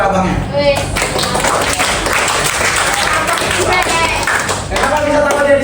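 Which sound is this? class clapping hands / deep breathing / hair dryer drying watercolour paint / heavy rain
class clapping hands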